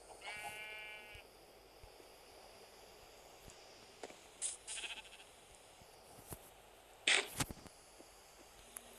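A few short, synthetic-sounding Minecraft sheep bleats pop out over a faint steady hiss, spaced irregularly with quiet gaps between them.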